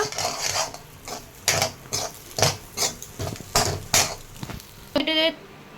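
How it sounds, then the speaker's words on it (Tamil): Vegetables for fried rice are stirred in a pan over high flame, a spatula clattering against the metal in quick, rhythmic strokes, close and fairly loud. "ஒரு 5 minutes வந்துட்டு ஹை ஃப்ளேமில் வச்சு நல்லா மிக்ஸ் பண்ணிக்கோங்க"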